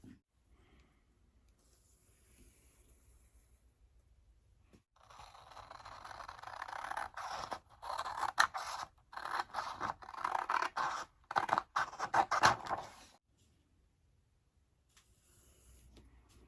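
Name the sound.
cutting out pieces for wall art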